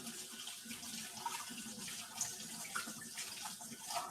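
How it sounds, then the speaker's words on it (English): Tap water runs steadily as hands are washed at a kitchen sink during home pizza-dough making, a continuous broadband hiss of moderate level with no talk over it. "I'm gonna wash my hands."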